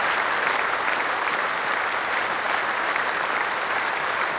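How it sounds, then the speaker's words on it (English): Cricket crowd at a memorial tribute to Phillip Hughes, applauding steadily for 63 seconds: a dense, continuous roar of clapping that holds at an even level throughout, with no speech above it. "63 seconds to applaud a son, a brother, a sportsman and a teammate."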